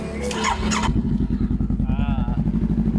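A 2018 Honda CBR500R motorcycle engine revving up close, starting under a man's brief speech and then settling into a loud, throbbing, pulsing idle blip after he stops talking.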